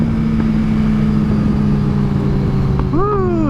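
Car exhaust popping and crackling as a driver lifts off over bumpy road, a steady engine drone throughout with a few sharp pops and a rising whine near the end.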